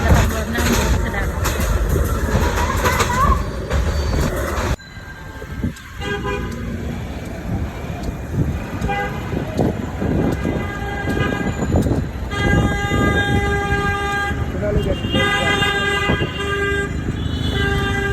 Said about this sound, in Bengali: আমাদের ট্রেন আসছে একদম ঢাকায় গিয়ে থাকা